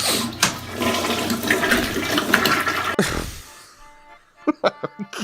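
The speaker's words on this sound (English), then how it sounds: "Flushed it nice and good there." A toilet flushes loudly up close in a long rushing surge of water that cuts off sharply, followed by quiet and a few short coughs or throat-clearing sounds.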